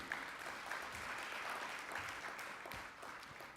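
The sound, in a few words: applause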